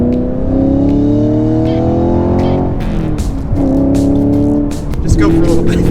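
A new Chevrolet Camaro drives and accelerates, its engine droning and climbing through the gears with a brief stumble. Voices talk over the engine noise, which is close and steady.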